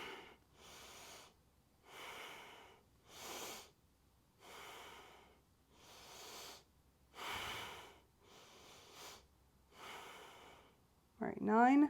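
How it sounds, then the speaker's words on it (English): Deep belly breathing during a chill yoga class: a steady series of slow, audible inhales and exhales, roughly every second or so, close and soft, with a brief voice at the very end. "Let's do 10 deep breaths here."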